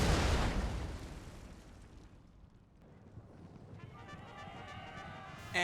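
Howitzer artillery fires in a Napoleon: Total War battle: one sharp blast at the start rolls off into a long, low, rumbling tail, fairly faint and distant.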